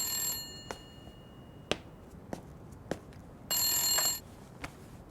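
An indoor telephone bell rings in two bright, sustained bursts, with scattered small clicks in between in an otherwise quiet room.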